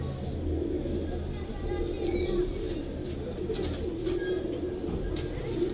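Pigeons, including older flying birds kept in Faisalabad, coo in low repeated throbs near a background of murmuring voices and faint chirps, with a steady ambient hum.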